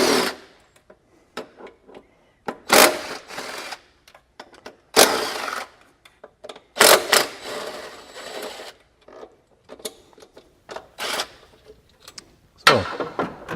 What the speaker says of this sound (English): So I remove the 4 bolts, set my old throttle body aside.